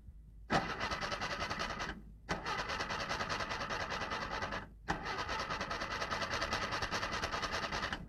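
A car engine cranks and catches during a driving lesson, running as a loud rough rattle that cuts out abruptly twice and restarts each time, three bursts in all.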